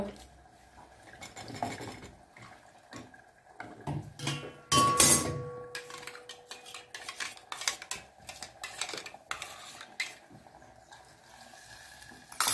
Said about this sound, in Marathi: त्या भांड्यामध्ये थोडंसं पाणी टाकून हे भांडं आपण करून घेऊया स्वच्छ